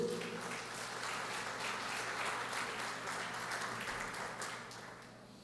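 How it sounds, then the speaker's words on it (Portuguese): A church congregation bursts into sustained applause during a sermon, a dense, steady wash of many hands clapping that holds for several seconds and only slightly tapers at the end. "aplauda o Senhor Jesus."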